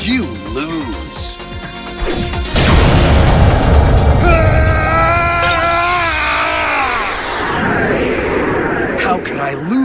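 A Hyper Neutron Blast attack in Yu-Gi-Oh! Duel Links, from Neo Blue Eyes Ultimate Dragon: a loud booming blast with sweeping synthetic tones and a rumbling roar, following spoken lines and with dramatic game effects layered over it.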